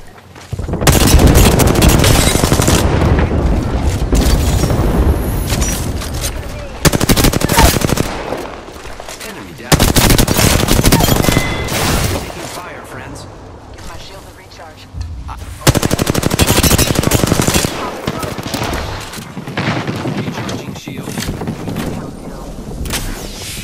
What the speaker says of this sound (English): I'm taking fire. The enemies are shooting at me.